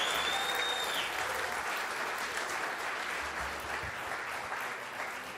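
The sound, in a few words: audience applause for special guest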